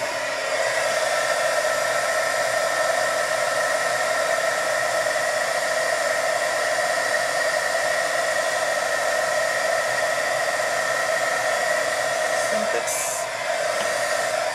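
A heat tool blows steadily to melt embossing powder over Versamark ink for a card, a constant loud whooshing hiss that runs unbroken for the whole stretch, with no talking.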